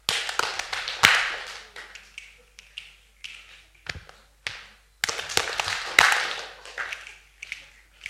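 Quick hand slaps on the thighs fall in a steady alternating pattern, crisp and close, with a few heavier thuds mixed in.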